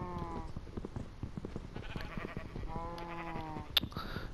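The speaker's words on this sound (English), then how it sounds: "Sheep, are you gonna follow me?" Minecraft sheep give two wavering bleats, one at the start and another near the end, fairly faint with a click just after, and no talk during them.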